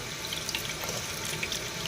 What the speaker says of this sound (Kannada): ಇದಕ್ಕೊಂದು ಸ್ವಲ್ಪ ನೀರು ಹಾಕಿದ್ಮೇಲೆ